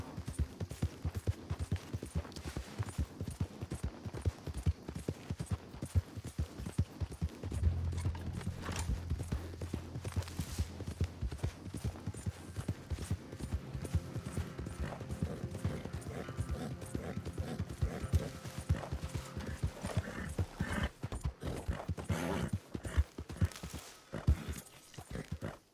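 Horse hooves clip-clopping in the video game Red Dead Redemption 2, a continuous run of hoofbeats at a steady walking-to-trotting pace, fairly loud and close, with bits of game noise mixed in.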